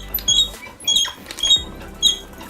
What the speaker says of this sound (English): So here's a board actually that has a squeak.